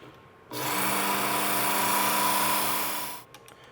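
Work Sharp Ken Onion Edition belt sharpener grinding an old, dull butcher knife, a steady high abrasive whine lasting under three seconds, starting and stopping cleanly against a quiet background.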